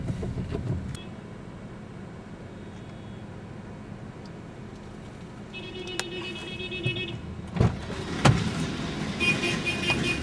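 A car idles and runs steadily at low level through a Sunday-afternoon scene, with a brief higher whine partway through and a couple of louder bumps near the end; no one speaks.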